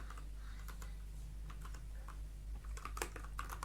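Rapid keystrokes on a computer keyboard while HTML heading text is entered for a Bootstrap tutorial, a steady clatter of close, moderately loud clicks over a low background hum, with no talking.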